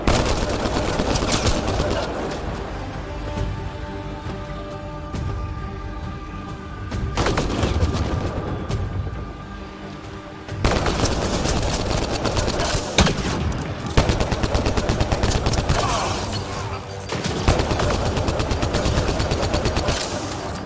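Sustained automatic gunfire and bursts of shooting in the sci-fi video game Mass Effect Andromeda, loud and nearly continuous across the stretch, with brief lulls and booming impacts mixed in.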